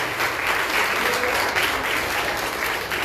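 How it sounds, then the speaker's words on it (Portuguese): A church congregation claps together for Jesus during a Brazilian Portuguese celebration service, steady dense applause held at an even level throughout. "A salva de palmas para Jesus."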